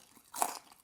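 A single crisp crunch as someone bites into a crunchy oven fry made from parboiled, roasted whole or half potatoes; the bite is close, brief and fairly quiet, set against near silence.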